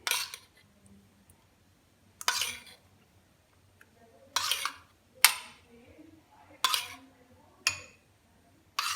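A spoon clinks against a bowl while yogurt is scooped in for a no-cook fruit dessert, about seven sharp separate taps spaced roughly a second apart, close and clear over near silence.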